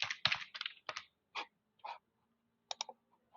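Typing on a computer keyboard to enter a search on Google, heard as short bursts of close clicking keystrokes in quick irregular clusters with pauses between, no voices.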